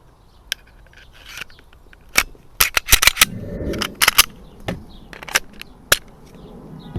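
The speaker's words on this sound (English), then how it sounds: "let's go ahead and get these guns assembled" A Glock 19 Mariner pistol being assembled, with sharp metallic clicks and snaps of parts seating, a brief sliding scrape in the middle, and loud isolated clacks at close range, with no talking.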